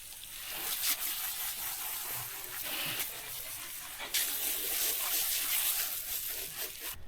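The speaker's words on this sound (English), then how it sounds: "I'm gonna go get the hose and wash all this off" A garden hose sprays water over a whole salt-brined goat carcass, rinsing off brine, rosemary and surface salt. The spray makes a continuous, fairly soft hiss with small shifts in intensity and no talk.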